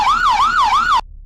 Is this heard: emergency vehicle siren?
yes